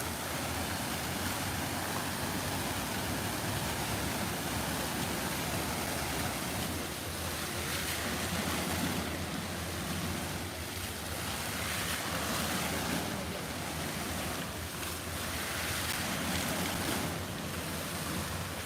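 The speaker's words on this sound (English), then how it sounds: "this is a musical fountain" Steady rushing water of a musical fountain in a city square in Ufa, Russia, a continuous broadband hiss heard from nearby, with faint wind noise and no talking.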